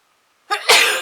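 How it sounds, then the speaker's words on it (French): A single close, loud sneeze bursts out after a moment of near silence, with a short sharp intake followed by a broad explosive blast that trails off. "je vais éternuer."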